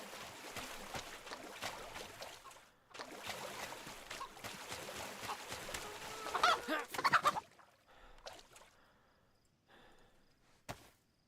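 Chickens clucking in the swamp areas of Chernarus in the video game DayZ, a run of soft clucks and squawks over rustling movement noise, then quieter scattered sounds, with no talk.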